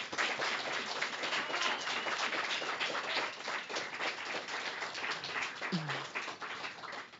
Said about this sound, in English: So a big round of applause for this